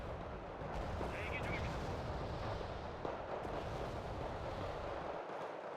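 Incoming missile strikes in the real-time strategy game Wargame: Red Dragon, a steady dense rumble of explosions and artillery-like blasts with no clear breaks, loud and continuous throughout.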